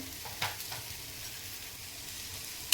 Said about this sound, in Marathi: आता मी पहिला कांदा भाजून घेते